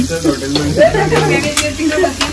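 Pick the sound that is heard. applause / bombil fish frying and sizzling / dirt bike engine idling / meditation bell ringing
bombil fish frying and sizzling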